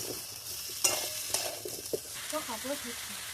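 Tomatoes and papaya being sautéed in a pan for a village-style chicken dish, a soft sizzle with a few scraping stirs and light knocks, quiet and close, with faint voice-like sounds near the end.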